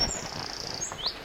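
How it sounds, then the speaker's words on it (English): Birds sing in bright, high chirps and whistles along a woodland path near Abbotsbury on the Jurassic Coast in late May, a few clear close calls over quiet background. "Such beautiful bird song."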